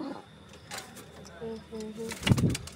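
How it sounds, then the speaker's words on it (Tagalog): A pet bird gives a short series of soft, low coos, close by, amid rustling and a burst of handling noise near the end. "At nakauwi na po ang ang aking ibon na si Blue"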